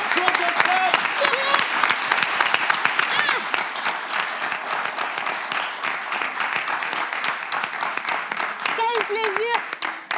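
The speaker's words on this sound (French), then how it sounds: "est-ce qu'on peut déjà applaudir Togocom?" A crowd applauds Togocom with dense, sustained clapping that fills the whole stretch, while voices and a few cheers or whoops rise through it near the start and end.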